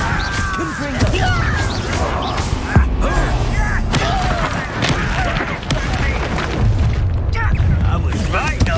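Confringo spell explosions in the video game Hogwarts Legacy: repeated deep booms and crackling blasts over continuous battle noise and a spoken voice.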